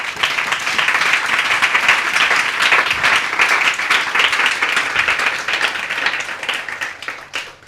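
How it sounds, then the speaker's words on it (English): Audience at a campus writing center event applauding the staff, loud, dense clapping from many hands sustained for several seconds before thinning out near the end. "So give them a round of applause."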